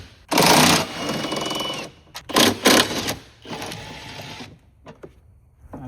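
A power tool buzzes in three loud, close bursts of varying length while 14 mm bolts holding a battery bar are removed from a 2018 vehicle. Short pauses fall between the bursts, and no one speaks.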